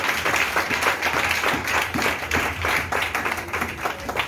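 A church congregation claps in a steady, rhythmic pattern, a dense wash of hands beating together at an even pace throughout, fairly loud and without pause.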